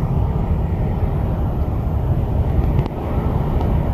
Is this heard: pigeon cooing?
no